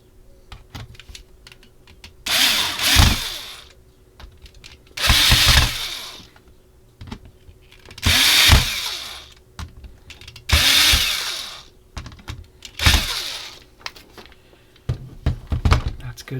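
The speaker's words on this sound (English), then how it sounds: "4 more screws go into this. And bring over my lithium screwdriver." A cordless lithium screwdriver whirs in short bursts as it drives screws into a Thanos Infinity War gauntlet premium base, with five separate buzzing runs and quiet handling clicks between them.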